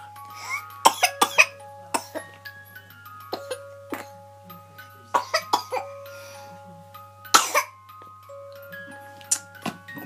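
A person coughs repeatedly in sharp, close bursts, several clustered together and others spaced apart, during a mock hypnosis attempt, while a clock ticks steadily in the background.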